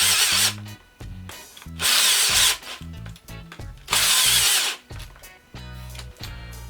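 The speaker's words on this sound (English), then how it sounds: "I do recommend using a electric screwdriver" An electric screwdriver drives screws into a DIY electric skateboard deck in a series of short, stop-start motor whines, some brief and some held longer, close by with no voices.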